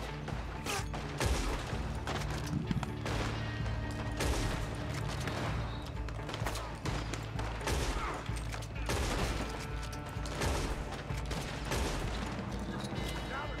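Dense gunfire in the Red Dead Online western game, with rapid overlapping shots and bursts keeping up a loud, constant barrage for the whole stretch. Voices talk over the shooting now and then.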